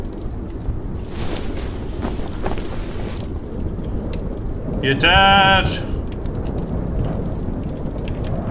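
A steady storm with heavy rain and distant thunder rolls through a Turkish survival video game set around Erzurum, with a brief louder gust midway and a voice speaking once over it.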